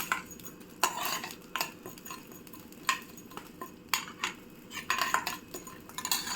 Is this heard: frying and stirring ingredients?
yes